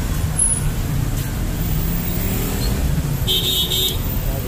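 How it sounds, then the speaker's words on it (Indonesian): Jammed evening city street traffic near Pasar Senen, a loud low engine rumble from cars, buses and trucks close by, with a short horn toot and a hiss of air brakes partway through. "di jalan dan masih macet guys"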